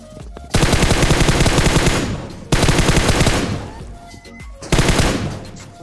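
Automatic gunfire in the Free Fire battle royale video game, three long loud bursts of rapid shots separated by brief pauses, close and dominant with no talk.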